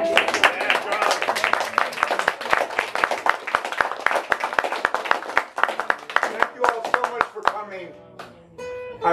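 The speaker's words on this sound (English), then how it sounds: "Can we give one more hand for Jon Melrod, Steve Hurley, and" An audience claps continuously for several seconds after a May Day panel discussion, the applause thinning out at the end while people talk underneath.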